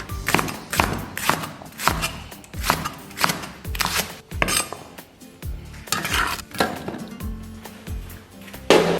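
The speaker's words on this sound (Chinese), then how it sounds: "葱给它切成小段儿。" A knife chops scallions into short pieces on a cutting board, sharp repeated thuds in uneven bursts, loud and close, with no talking.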